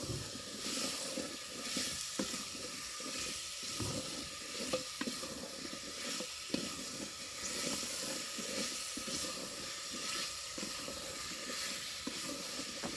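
Gravy cooks in a pan with a continuous loud sizzle and hiss and occasional stirring scrapes, close and steady with no talk.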